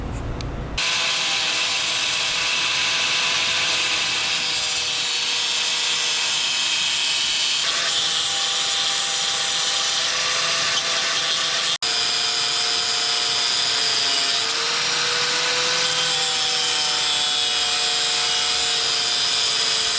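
An angle grinder screams steadily at close range for a long stretch, its harsh high whine dipping slightly in pitch as it bites into a stuck metal bolt.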